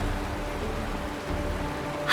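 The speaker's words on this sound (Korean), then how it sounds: "이게 바로 빗소리란다." Steady rain hiss fills the scene in the video game Honkai: Star Rail, a dense even wash of falling drops with no voices, ending in a brief louder burst.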